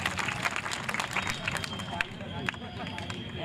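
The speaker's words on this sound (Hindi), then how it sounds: "जिसके समझ में आ गई वो जोरदार ताली बजा सकता है।" Crowd at a Hindi comic poetry gathering in Gwalior claps loudly, a rapid patter of many hands with a few sharper claps standing out, mixed with faint crowd murmur and speech.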